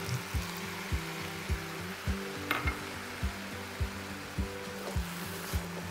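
Chicken sautéing in a pan with mustard and vinegar for a Salvadoran-style sandwich, a steady soft sizzle broken by regular, evenly spaced scrapes and knocks of stirring against the pan.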